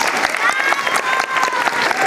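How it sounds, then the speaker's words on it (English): Audience applause at a horror make-up show at Universal Studios Florida, dense steady clapping from a crowd with scattered voices mixed in, loud and close throughout. "give her some applause"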